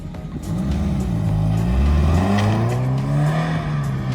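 A car engine rumbles close by, its pitch rising and shifting as the vehicle drives past steadily, without any talking.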